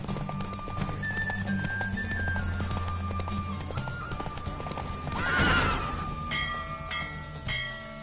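In The Witcher 3, a horse gallops hard during a race, hooves clip-clopping in a fast steady rhythm, with a loud neigh around the middle, all under game music and no speech.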